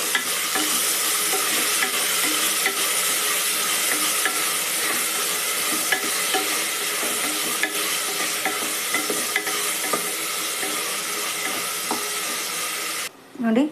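Tomatoes sizzle and fry in a pan while being stirred, a steady broadband crackle running continuously for about thirteen seconds before a brief clatter at the end.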